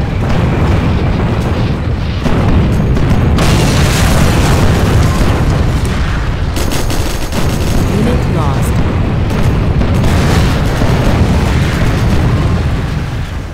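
Rocket artillery explosions in the video game C&C Generals Zero Hour: a dense, loud, continuous roar of overlapping booms and blasts, with game voice lines over them.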